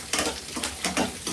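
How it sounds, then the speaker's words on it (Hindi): Peanuts frying in a pan at home, a crackling sizzle that swells in several short bursts as they are stirred, close and moderately loud with no talk. "मूंगफली को भी थोड़ा सा फ्राई कर लेंगे।"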